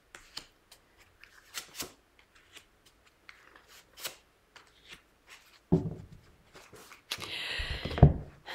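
Tarot cards handled during a horoscope reading: soft scattered taps and rustles, then two brisk riffling bursts of shuffling near the end, close and fairly quiet, with no talking.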